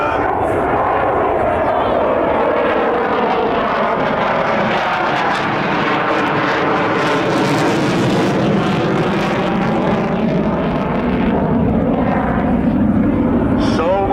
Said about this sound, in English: He needs full afterburner to maintain that tight turn.